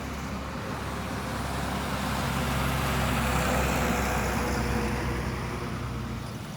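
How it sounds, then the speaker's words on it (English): Trucks driving past on a bypass road through sugar plantation land, a loud, steady broadband roar that swells to a peak midway and eases slightly, close and continuous with no talking. "So these trucks are all coming through."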